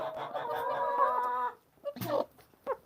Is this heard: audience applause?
no